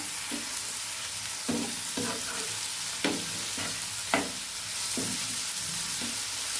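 Chopped tomato and onion stirred into a frying mixture in a pan, a steady sizzle with repeated scraping strokes of the spoon at an irregular pace.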